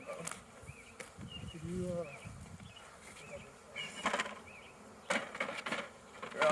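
Honey bees hum steadily around an opened hive being split outdoors on a grass-and-wood work area, a faint continuous buzz under scattered brief talk and handling knocks.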